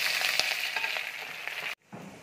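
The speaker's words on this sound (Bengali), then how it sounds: "এবার আমি ক্যাপসিকাম আর তেজপাতা দিয়ে দিচ্ছি।" Capsicum and bay leaves fry in caramelized, browned sugar in a pan, a loud, steady hiss of sizzling that cuts off abruptly near the end before a softer sizzle resumes.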